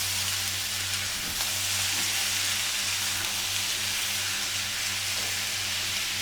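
Bitter gourd, steamed beforehand, fries in a small black wok with a steady, even sizzle that runs unbroken and close throughout, no voices over it.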